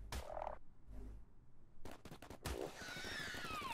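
A frog croaks in the video game ARK, its short rough calls sounding among clipped game effects and bursts of noise, fairly quiet overall.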